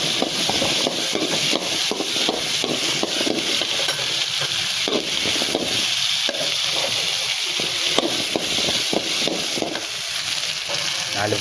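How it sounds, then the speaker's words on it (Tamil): Onion and garlic sauté for a cauliflower gravy, frying with a continuous loud sizzle while a spoon scrapes and stirs steadily through the pan, close up, with no talk. "பூண்டு போட்டு நல்லா வதங்கட்டும் எல்லாமே."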